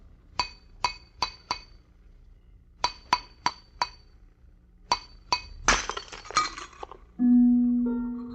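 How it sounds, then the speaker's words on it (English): A radio drama effect: a closed glass vessel takes a series of sharp tapping strikes in quick clusters, then shatters with a crashing burst of breaking glass, followed by a loud sustained low tone. "The glass you just heard broken was not ordinary glass."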